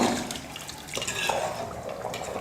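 Water bubbling and churning in a pot of chicken biryani water at a rolling boil before rice is added, a continuous wet sputtering with occasional drips and light clinks of metal.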